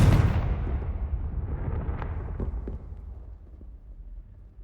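A Confringo fire spell blast in Hogwarts Legacy: a sudden heavy explosion that rumbles and slowly decays over several seconds, with a few faint crackling pops in the fading tail.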